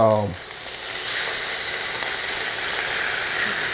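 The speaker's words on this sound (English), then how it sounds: "get that fat, see if we can sear some of that like that" Steak fat hits a hot pan and sears with a loud, rising hiss that settles into a sustained, close sizzle, after a brief voice at the start.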